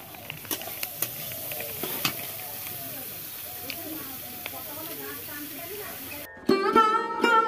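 Neem leaves fry with eggplant in a pan, producing a low, steady sizzle with scattered stirring clicks and faint voices nearby, before a sudden louder, brighter sound cuts in at the end.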